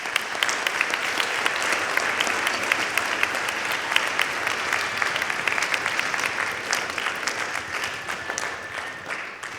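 Steady applause from a junior high school winter band concert audience honoring the Springdale public school band directors, a dense crowd of clapping hands that holds evenly for nearly ten seconds before easing slightly at the end.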